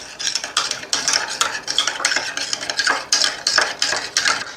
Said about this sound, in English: And I'm going to put 1 teaspoon of brown sugar here and mix it.